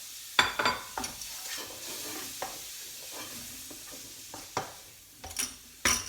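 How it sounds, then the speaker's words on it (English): Prawns and spring onions stir-fried in a very hot wok, with a steady sizzle and frying hiss broken by several sharp scrapes and clanks as the food is tossed and kept moving, close up and with no talking. "So it's a really hot pan, wok, small cut vegetables, get them in there, cook really quickly, keep it moving around"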